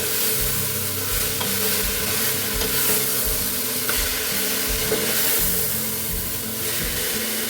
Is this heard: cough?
no